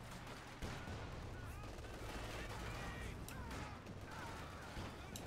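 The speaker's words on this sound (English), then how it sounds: "Sniper's still firing, by the way." Sniper rifle fire and battlefield gunfire in a WWII-style real-time strategy game match, a continuous dense din of shots and explosions at steady loudness with no clear voice on top.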